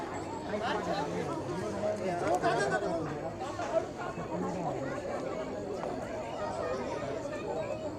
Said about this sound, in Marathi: संडेची गर्दी